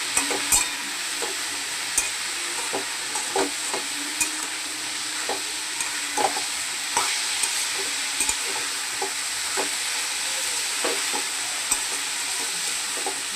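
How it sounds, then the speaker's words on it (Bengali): Leafy greens seasoned with salt, turmeric and sugar fry in a pan, a steady close sizzle broken by regular scraping stir strokes. "শাকটা ভালোভাবে ভাজতে হবে।"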